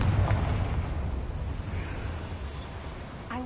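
A Confringo fire spell from the Hogwarts Legacy video game bursts with a deep, rumbling explosion, followed by a sustained low roar that slowly fades, with a second sharp crack right at the end.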